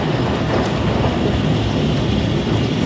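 A strong storm rages outside a window, with dense rain and hail pounding and wind roaring in a loud, unbroken wash that fills the whole stretch.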